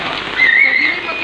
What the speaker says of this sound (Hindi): खुल के बारिश आ रही है 1 मंथ के बाद